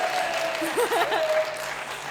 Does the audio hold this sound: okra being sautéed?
no